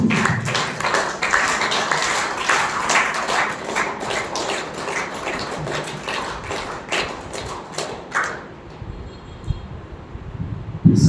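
An audience claps loudly at a gathering, a dense sustained round of applause lasting about eight seconds before thinning out and dying away.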